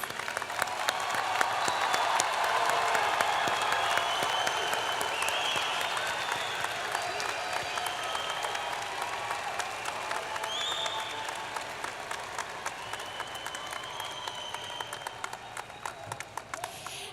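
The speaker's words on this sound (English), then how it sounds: "Audience, please join me once more in applauding all of our graduates." A commencement audience at a spring morning ceremony applauds all the graduates, a long, dense roll of clapping that peaks early, then gradually thins and fades over about seventeen seconds.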